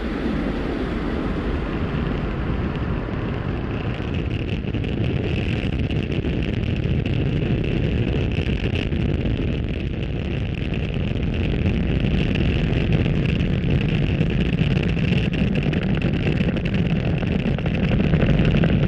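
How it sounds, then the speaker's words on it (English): A SpaceX Falcon rocket lifting off from Pad 40 with an Indonesian satellite aboard gives a continuous, dense roar that holds steady and heavy throughout the ascent, with no talk over it. "Ignition. And liftoff. Go Falcon, go PSL. Stage 1 propulsion is nominal."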